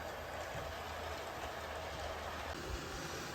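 A model '62 stock train climbs an incline on a layout, giving a faint, continuous running rumble with light rail clatter throughout.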